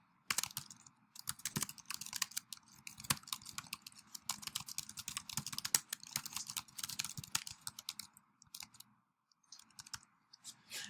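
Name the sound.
typing text on a computer keyboard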